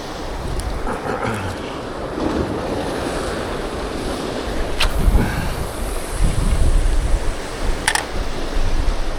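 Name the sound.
wind blowing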